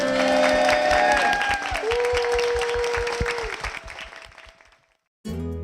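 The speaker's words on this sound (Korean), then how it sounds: "주님께 큰 영광의 박수를 드리겠습니다" A congregation at a Korean Christian school gathering claps in a steady, rhythmic beat over singing and music. The applause is loud and close, fades out toward the end, and gives way to a moment of silence before a different sound cuts in.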